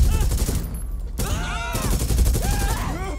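Bursts of gunfire in the video game GTA V rattle in the distance, rapid volleys over a steady rumble while people talk over them during a jewelry store robbery.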